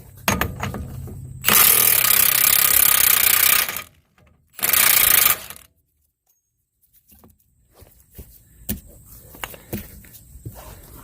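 A power tool, likely an impact wrench, spins off the 35 mm spindle nut on a Dodge Ram 1500 2WD hub in two loud, harsh bursts, then a pause and scattered clanks of metal parts and tools.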